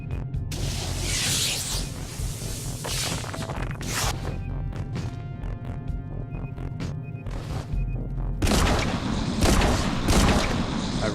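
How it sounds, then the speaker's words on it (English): Hand cannon gunfire in the sci-fi game Genesis Alpha One, a series of heavy booming shots and crashing impacts spread across the stretch, with a louder dense burst toward the end amid game ambience. "I really like the hand cannon."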